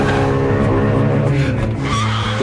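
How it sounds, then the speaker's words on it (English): A BMW M3 launches hard with traction control off and lots of revs, its rear tyres spinning and squealing loudly and continuously over a strained, high-revving engine roar close by. "The rear wheels light up like Catherine wheels because there's nothing controlling that mighty engine."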